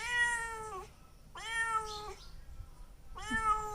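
A cat meows three times, clear, close and drawn-out, with short pauses between each call.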